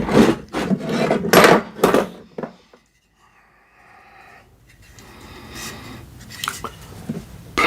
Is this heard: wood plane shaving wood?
yes